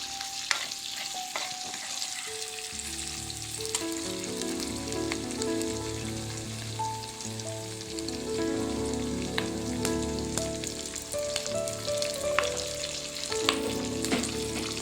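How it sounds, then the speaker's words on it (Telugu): Onions and curry leaves fry in a pan with a steady, close sizzle and crackle that runs nearly the whole time, with occasional stirring scrapes and no talking. "ఇప్పుడు ఆనియన్ కొంచెం బ్రౌన్ కలర్ వచ్చిందాక ఫ్రై చేసుకుందాం"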